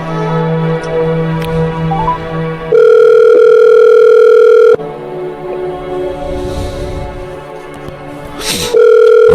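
A phone call placed to a man named Carl rings out: a steady ringback tone sounds in two long spells, separated by a stretch of line noise and faint background sound.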